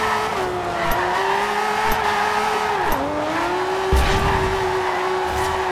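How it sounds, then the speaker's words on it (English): Aston Martin One-77 tuned past 1000 hp drifting in Forza Horizon 2, its engine droning steadily while the tires squeal continuously, loud and close throughout. "That is some serious damn drifting."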